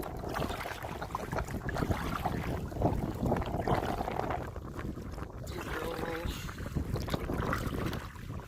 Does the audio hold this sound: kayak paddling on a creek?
yes